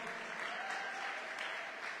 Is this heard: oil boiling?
no